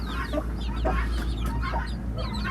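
A chick on a farm gives repeated high, thin peeps, close by over a low steady background hum, with other fowl clucking faintly.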